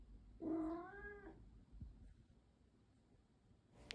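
A needy house cat lets out one loud, drawn-out morning meow with a wavering pitch, followed by quiet room tone and a faint rustle near the end.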